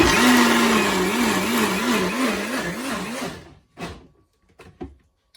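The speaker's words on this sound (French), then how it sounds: "So now we are trying to use the mixer" Electric kitchen blender whirs loud and close while blending ingredients for Congolese pondu, its motor pitch wobbling as the load shifts, then cuts off, followed by a few sharp knocks and clatters.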